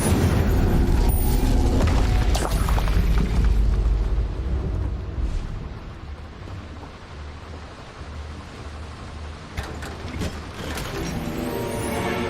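Incendio fire spell from Hogwarts Legacy erupting in a loud, rumbling blast that roars for a few seconds, then settles into crackling fiery noise with more bursts flaring near the end.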